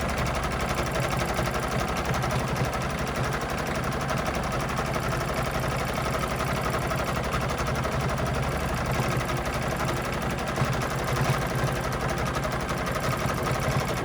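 A sewing machine runs steadily through free-motion quilting on a mini stacks quilt, its dense, even whir and stitching chatter continuing without a break at close range.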